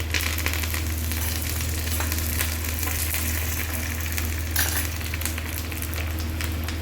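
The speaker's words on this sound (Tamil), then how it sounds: "நல்லா இந்த மாதிரி பொறிஞ்சிடணும் பொறிஞ்சோன்னே கருவேப்பிலையை போட்டணும்" Curry leaves crackle and fry in hot oil for a South Indian tempering, a steady dense sizzle with a few brief pops, close and loud throughout with no talking.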